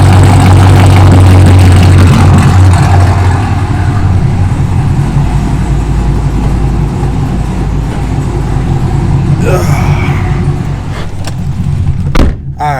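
A Chevy SS engine running at a car meet, a loud deep rumbling idle heard up close, steady and powerful, easing slightly before a few sharp knocks and clatter at the end, with no speech.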